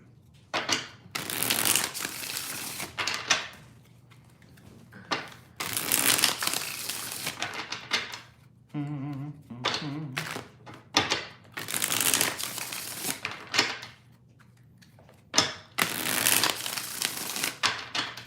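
Tarot cards are shuffled in repeated bursts of riffling and slapping close by, each flurry lasting a second or two with brief pauses between, plus a few softer taps and rustles.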